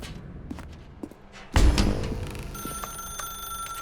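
A telephone rings inside a dark room in the video game The Stanley Parable: a sharp thump comes first, then a steady electronic ring that repeats and hangs over low room tone.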